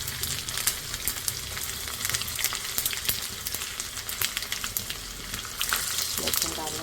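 Cumin seeds and garlic cloves crackle and sizzle in hot oil, a tempering being made for sour dal. The frying stays steady and fairly loud for the whole stretch, with a brief louder burst of spitting near the end and no talk.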